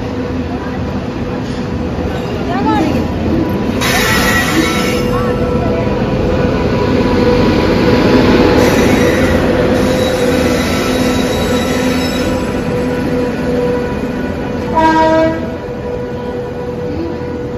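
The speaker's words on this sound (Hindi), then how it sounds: "ये आ गई हमारी ट्रेन" A train pulls into a station platform on a journey toward Gwalior, its wheels squealing loudly over a steady rumble of rolling cars, with a short horn-like burst near the end; there is no talk.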